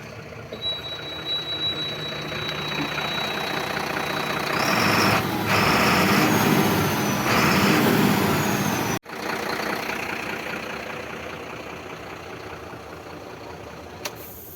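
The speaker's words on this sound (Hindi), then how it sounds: "अभी इंजन को स्टार्ट कर इंजन के साउंड सुनाएंगे" BharatBenz 4828R BS6 16-wheeler truck with a new lift axle, its diesel engine running with a steady low rumble, a high warning beep early on, a louder surge mid-way, then a brief cut and the idle resuming.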